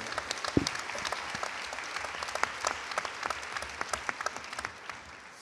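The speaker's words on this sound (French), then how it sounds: "On peut l'applaudir, ouais." Audience at an award ceremony clapping steadily for several seconds, a moderate indoor round of applause from a modest crowd that tapers slightly toward the end.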